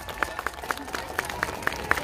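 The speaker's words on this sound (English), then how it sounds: "let's give an applause to these three girls" Scattered hand claps from a small group at a Girl Scout cookie rally in Las Vegas, uneven and fairly light, pattering steadily for a couple of seconds.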